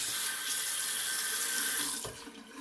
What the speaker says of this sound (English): I'm gonna go ahead and fill my sink with water